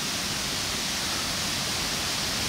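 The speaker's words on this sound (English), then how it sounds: "And there's the waterfall there." A waterfall at the Kbal Spean jungle ruins near Angkor gives off a constant, dense hiss of rushing water, steady and fairly close throughout.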